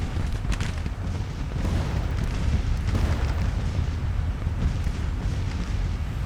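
Rumbling Civil War-era artillery fire in Grand Tactician: The Civil War, a dense, continuous low roar of distant booms with no clear separate blasts.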